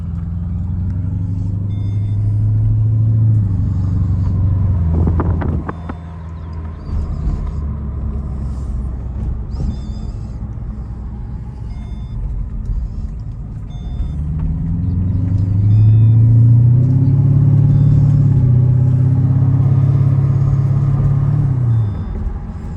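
A 2011 Mercedes SL550 with a modified exhaust rumbles deep and loud, holding a low drone that swells louder and heavier toward the end.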